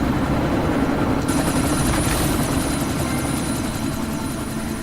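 A helicopter in the video game Deus Ex: Mankind Divided makes a loud, steady rotor roar. The dense low thumping stays constant with no talk over it.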